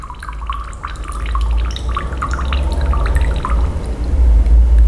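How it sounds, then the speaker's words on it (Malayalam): Water flowing downward through a tube from a higher level to a lower one, a continuous close trickling and gurgling with a low steady hum beneath, growing slightly louder toward the end. "ഈ ട്യൂബിൽ കൂടി വെള്ളം ഒഴുകുന്ന സാഹചര്യം ഒന്ന് ശ്രദ്ധിക്കൂ"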